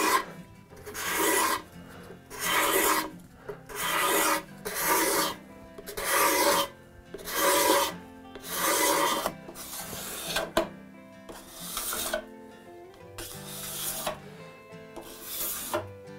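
A card scraper pulled along wood with the grain makes a run of about nine rhythmic, raspy strokes. Each scrape lasts roughly a second, with short pauses between them, close up and with no talk.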